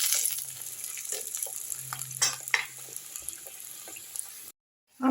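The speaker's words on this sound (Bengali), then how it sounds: "আমার বেবি নান পুরিগুলো দেখো আস্তে আস্তে এইভাবে ফুলে ফুলে সুন্দর করে আমি ওলট পালট করে ভেজে নিচ্ছি।" Small aloo naan puris frying in hot oil over a medium-high flame, being turned over; a steady close sizzle with scattered clinks and stirring scrapes, cutting out near the end with no talking.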